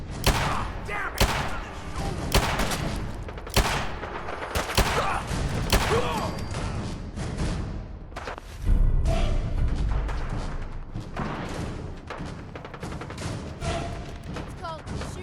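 Gunfire in the video game Fallout 4: sharp, loud shots in rapid bursts and scattered single cracks, with booming impacts and battle noise, interrupted by a heavy thud near the middle.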